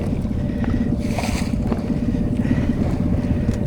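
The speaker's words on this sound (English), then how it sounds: "I'm doing this the yachty way this morning, which is motoring straight into the wind" A sailboat motors straight into the wind on a foggy morning, its engine giving a steady low drone under wind rush and the slap of water against the hull, close and continuous.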